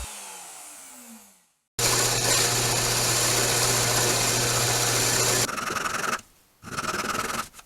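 A router cuts a groove in a wooden handle, with a same-thickness cutoff beside the piece for support: a loud, steady, high whine with a constant motor hum that runs about four seconds, then stops briefly and restarts.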